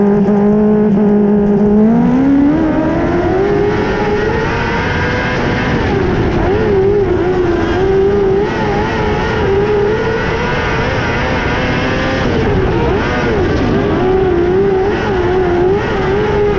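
TQ midget race cars in a heat race, engines roaring loud and steady as they rev up and hold a high, buzzing drone that rises and falls through the whole stretch.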